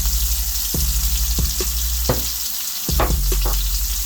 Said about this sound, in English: I'm going to drop some tomatoes right on the vine. I'm going to add a little bit of olive oil to this.